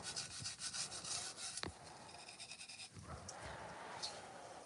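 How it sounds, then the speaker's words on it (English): Sandpaper rubbing the inside of a handmade pot, a steady near scraping with rhythmic strokes and a couple of sharper scuffs, continuing throughout without speech. "I'm now just trying to sand off the filters on the inside."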